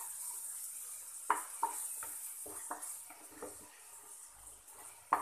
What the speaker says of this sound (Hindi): अच्छे से इसे चला लें।